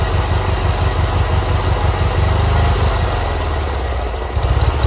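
Toro 616Z zero-turn mower engine idling while prone to stalling at higher throttle, a loud, close, steady rumbling drone with slight uneven pulsing and no voices.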